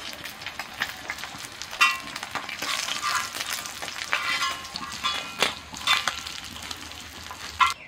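Fish sizzle and crackle as they fry in hot oil with dark spices, a steady broadband hiss punctuated by sharper spits and pops throughout, fairly close and with no voices.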